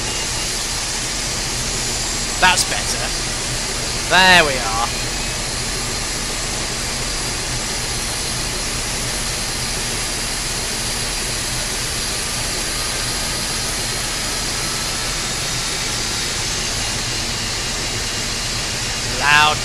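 Boeing 747-200 jet engine number 1 spooling up in the X-Plane 12 flight simulator, a steady broad roar with a high whine throughout, someone talking briefly over it.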